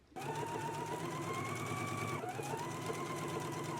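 A sewing machine runs without a break, basting a collar band with a steady whirring hum, and its pitch dips briefly partway through.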